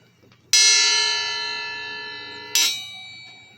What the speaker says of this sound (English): he's got to ring the dinner bell